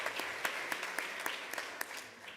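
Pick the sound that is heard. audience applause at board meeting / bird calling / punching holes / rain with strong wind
audience applause at board meeting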